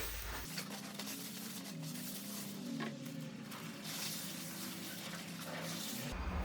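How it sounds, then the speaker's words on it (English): Brake cleaner hisses in a steady, faint spray onto the brake rotors of a Lincoln MKC/MKZ over a drip pan, running for several seconds without a break and with no voices. "So we're going to use our brake cleaner, again, with our pan."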